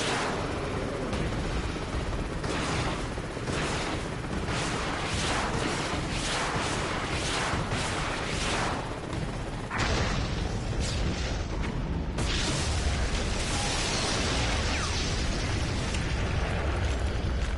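Missile blasts in the action game Prototype: a dense, continuous barrage of loud booms and bursts, repeated impacts thundering one after another with a heavy low rumble throughout and no talk.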